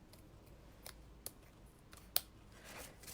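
Scissors snip leaves off a paper card-stock hat piece for a Christmas card, a few soft isolated clicks and cuts at close range, the sharpest near the end, over a quiet room with no talking.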